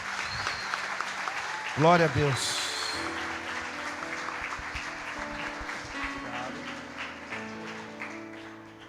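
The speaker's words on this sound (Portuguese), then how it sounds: "Eu queria que você aplaudisse mais uma vez a Jesus." Church congregation applauding for Jesus, a sustained crowd clapping throughout, with speech and a loud voice rising over it.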